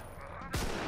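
A single loud gunshot blast in the co-op zombie game Contagion, The Hive map in escape mode, following a brief quiet stretch of low ambient game noise.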